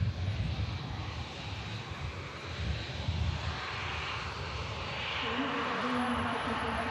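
A Ryanair jet departing Manchester Airport for Barcelona gives a steady, fairly distant engine rumble and hiss that holds even throughout, with a faint voice talking underneath.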